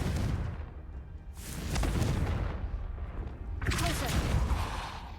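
A Confringo spell fires in the Hogwarts Legacy video game, producing a series of rumbling booms and blast bursts, with a sharp crackling explosion near the end, loud and close.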